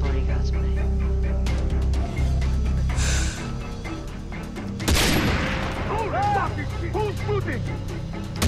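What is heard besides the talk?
gunfire in the video game Far Cry 3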